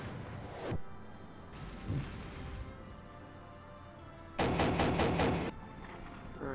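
Mortar fire mission in the Armored Brigade wargame, set in a 1971 US campaign. Muffled booms come at intervals, then a louder stretch of rapid crackling reports, with faint clicks at times.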